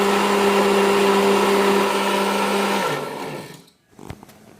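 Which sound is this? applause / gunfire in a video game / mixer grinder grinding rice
mixer grinder grinding rice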